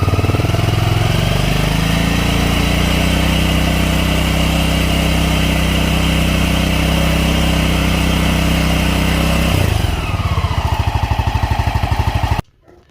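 A 200cc Vitacci Kandi Batman engine revs up from idle, climbing to a loud, sustained high-rpm drone, then drops back near the end before cutting off abruptly.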